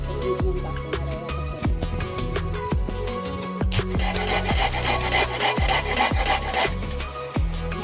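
Cabbage being grated on a kitchen grater, a steady rhythmic rasping of repeated strokes, close and fairly loud with no talk.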